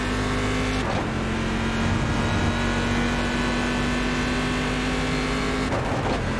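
GT1 race car engine in iRacing holding a loud, steady high-revving drone from close inside the car, with brief shifts or blips near the start and end, continuous and without talk.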